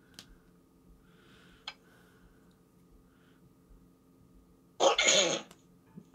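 A single sharp sneeze bursts out near the mic during a quiet online chess game, loud and brief, with faint room hum and a couple of small ticks before it.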